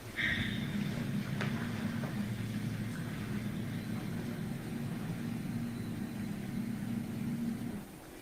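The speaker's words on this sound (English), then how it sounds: "there we hear the engine of the vehicle starting" A Nissan Armada's engine starts and settles into a low, steady idle hum, captured from a distance on a surveillance camera, before cutting off abruptly near the end.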